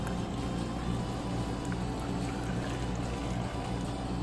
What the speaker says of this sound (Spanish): Voy a reutilizar el agua